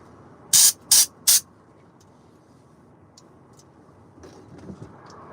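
Air blower clearing debris out, three short loud blasts of rushing air in quick succession, then a quiet background with faint hisses.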